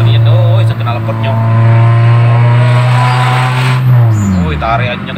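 Suzuki Ertiga exhaust revving loudly, a deep, throaty, sustained engine roar close by that climbs and then drops in pitch near the end, with people talking over it.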